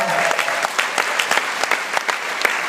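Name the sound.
audience applause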